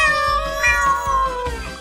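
A robot dog toy gives a synthetic cat meow, a tonal, slightly buzzy imitation that rises and falls, heard clearly and alone.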